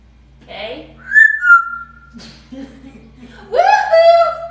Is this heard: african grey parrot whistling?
yes